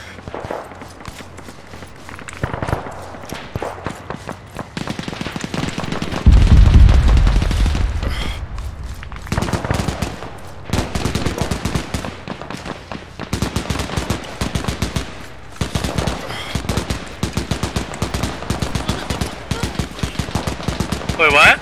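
Sustained automatic gunfire in the military shooter Arma, dense rapid bursts and single shots cracking at close and middle distance, with a heavy boom early on and repeated volleys continuing steadily throughout.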